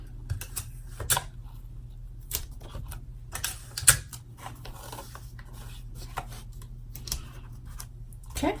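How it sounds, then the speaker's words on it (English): An embroidery machine stitching fabric for a zipper bag, a quiet steady low hum with rapid ticking needle strikes and occasional sharper clicks, close by and without talk. "now I'm going to go ahead and run the next step on the machine"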